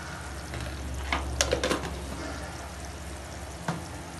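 Mushroom curry with chili powder sizzles steadily in a pan, broken by a few close spoon scrapes and stirring clatters.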